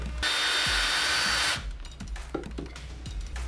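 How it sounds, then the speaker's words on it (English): A power drill bores a hole through a dry erase board circle for a prize wheel, running loud and steady for just over a second. Light clattering and handling knocks follow the burst. "that way we can go and drill that hole"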